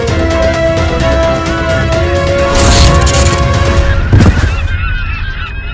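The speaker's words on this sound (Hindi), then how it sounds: "पक्षियों का समूचा झुंड आ रहा है।" A flock of geese flying overhead, giving loud, repeated honking calls that overlap continuously throughout, close and dense, with a sharp impact-like burst near the end and no speech.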